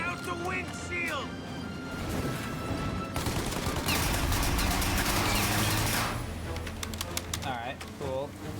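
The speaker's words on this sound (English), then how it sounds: "Shoot out the windshield!" Gunfire bursts rattle through the Mafia video game as shots blast out a car windshield, rapid cracks layered under excited voices talking over the action.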